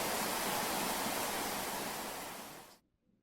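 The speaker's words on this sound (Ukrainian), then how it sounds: "Так, добре, приймаємо душ." Steady broadband water spray of a running household shower, loud and continuous, then cut off abruptly near the end, leaving near silence.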